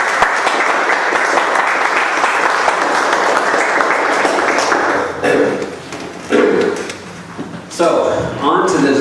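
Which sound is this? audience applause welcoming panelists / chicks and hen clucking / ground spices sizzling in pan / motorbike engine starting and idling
audience applause welcoming panelists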